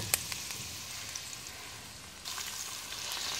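A pot of rice bubbles with a steady, soft hissing boil that swells a little louder toward the end.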